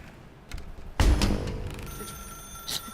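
A desk telephone rings in The Stanley Parable's office, starting with a sharp bright burst and then leaving a thin sustained ringing tone with fainter repeats over a quiet room.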